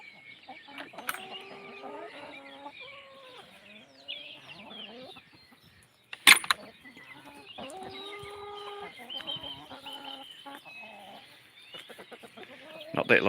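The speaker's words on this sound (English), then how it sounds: "There's our chickens." Chickens on a New Zealand lifestyle property cluck and chatter outdoors in sunshine, a busy layered flock sound with a sharp loud squawk midway and intermittent calls near and far.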